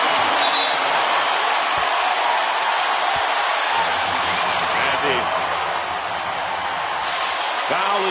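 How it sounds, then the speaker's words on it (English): A loud basketball arena crowd roars and cheers continuously during a Golden State Warriors vs San Antonio Spurs game while a commentator talks over the noise. "And this is the loudest we've heard the crowd tonight."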